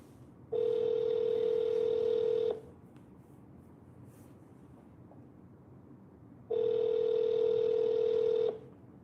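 An outgoing telephone call rings back twice: two steady, level tones about two seconds long, separated by a quiet pause, with no voices.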